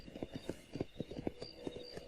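Horse hooves clip-clop at a steady walking rhythm in the Red Dead Redemption video game on Xbox 360, close and fairly quiet, with faint ambient game sound and no talking over them.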